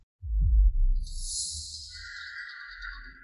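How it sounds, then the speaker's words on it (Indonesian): A heavy, low heartbeat thumps loudly at the start and then continues more softly, under a high, airy tone in a dramatic scene. "Jantungku deg-degan banget."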